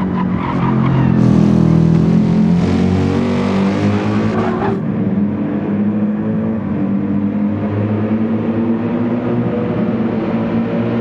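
Race car engines roar in Gran Turismo 7 during a multiclass GT3 and GTE race at the Nürburgring, a loud, dense blend of several engines droning and shifting, with tire noise, continuous throughout and without talk.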